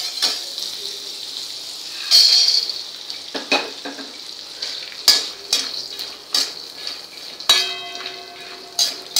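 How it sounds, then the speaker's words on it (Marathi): Peanuts fry in butter in a kadai. A soft, steady sizzle runs beneath repeated sharp scrapes and clinks of a metal spoon stirring against the pan, close up. "आधी आपण याच्यात शेंगदाणे तळून घेऊया आणि मग भाजीला फोडणी देऊया। शेंगदाणे बटरमध्येच तळायचे"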